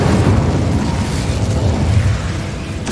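An Incendio fire spell bursts out in Hogwarts Legacy, a loud, rumbling whoosh of flame that roars steadily for a few seconds with a sharp crackle at the end.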